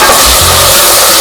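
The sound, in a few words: spices being roasted in a pan for mutton stew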